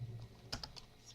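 Brief burst of keystrokes on a computer keyboard while a command is typed, a few quick faint clicks close by in a quiet room.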